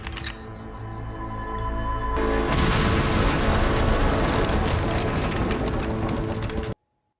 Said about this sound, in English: How are these people surviving all these giant explosions?